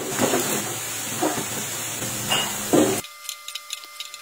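Kikiam fries in hot oil until golden brown, giving a steady close sizzle and hiss with a few louder crackling pops, then cutting off abruptly into a faint clicking and rattling.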